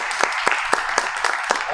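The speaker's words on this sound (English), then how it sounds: "round of applause for David" An audience applauds at an evening showcase event with steady, moderately loud clapping that has a few sharper individual claps standing out.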